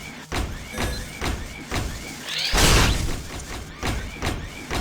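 Objects in the Jak II video game being hit and destroyed, a run of repeated punchy thuds and impacts with one louder crashing burst in the middle, amid game effects.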